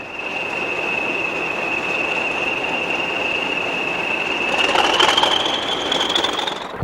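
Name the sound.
British Rail Class 40 diesel locomotive hauling freight train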